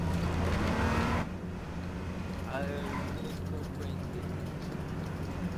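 A car drives in the video game H1Z1, its engine droning steadily beneath voices talking over the top, with a brief louder burst at the start.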